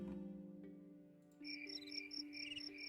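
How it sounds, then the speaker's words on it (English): Crickets chirp steadily in the Panacea: Rebirth game world, a layered, continuous insect trill that swells after a moment over a soft, sustained musical drone, with no talking. "A chirping group of insects which sound like they're singing a song."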